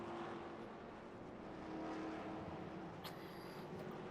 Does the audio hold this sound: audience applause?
no